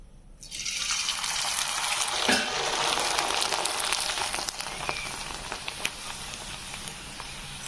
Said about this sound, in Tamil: பாருங்க, எப்படி நல்லா பொரிஞ்சு வருது பாருங்க, நல்லா பெரிய சைஸா.